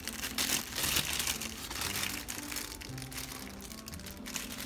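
A plastic piping bag crinkles and crackles steadily as it is poked through, close and fairly quiet, with a low hum of background noise beneath and no voices.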